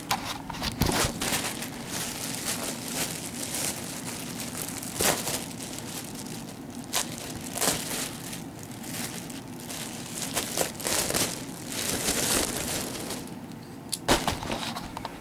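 Plastic packaging crinkles and rustles loudly and close by without a break while a mask is unboxed, with sharp crackles scattered through the handling.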